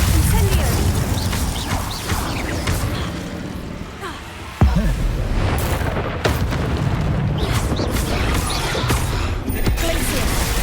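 Glacius and Incendio spells are cast in Hogwarts Legacy combat, with repeated booming blasts and crackling magical impacts over dense, continuous battle noise, and a voice speaking throughout.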